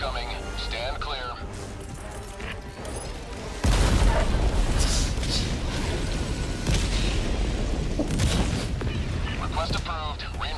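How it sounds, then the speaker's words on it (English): Orbital walking barrage in the game Helldivers 2, rumbling blasts that start abruptly a few seconds in and roll on as a continuous loud bombardment, with gunfire mixed in and voices heard underneath. "I got a new airstrike. Orbital walking barrage."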